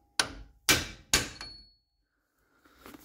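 Three sharp hammer blows on a two-inch socket drive an axle seal into a Chrysler 8 3/4 rear axle, each a loud metallic strike that rings briefly, followed after a pause by faint handling noise.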